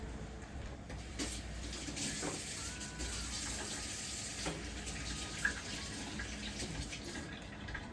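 Hands are rinsed under a running kitchen tap after handling eggs while baking brownies, giving a steady, moderately faint rush of water that stays even throughout with no talking.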